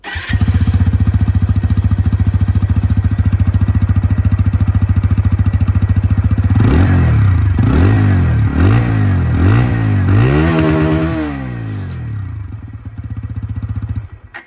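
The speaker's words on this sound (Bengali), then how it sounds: "আপনাদেরকে আমি এখানে যে ইঞ্জিনের সাউন্ডটা, ওটাও আমি এখানে শুনিয়ে দিই একবার" A 2024 TVS Apache RTR 160 2V motorcycle engine, Black Edition, idles loud and close, then revs in several quick rising bursts before settling back to a steady idle and cutting off.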